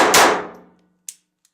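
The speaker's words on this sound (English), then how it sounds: "I'm gonna shoot on the silver can in front of me." A Walther TPH .22 Long Rifle pistol loaded with Remington ammunition fires once at a silver can, a sharp close crack with a metallic clang that rings and fades. A small click follows.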